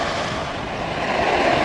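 Ocean waves wash in at the water's edge in a continuous close rush, mixed with wind buffeting the microphone and no distinct breaks.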